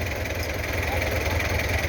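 A Belarus 510 tractor engine idles nearby with a steady low knocking chug and vibration, a person talking faintly over it.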